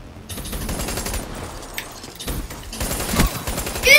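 Machine gun fire in Call of Duty Black Ops 3 on the Nuketown map rattles in rapid sustained bursts, pausing briefly and then resuming louder and closer toward the end.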